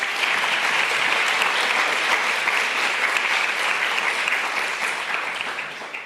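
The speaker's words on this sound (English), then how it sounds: "So give them a round of applause" Steady, dense applause from an audience at a climate justice summit, sustained at full strength for several seconds before easing slightly at the end.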